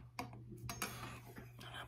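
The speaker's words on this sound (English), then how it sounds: "I'm gonna start by slicing up my russet potato." Knife slicing a washed russet potato into half-inch rounds, a few sharp cuts and taps against a cutting board, close and clear over a steady low hum.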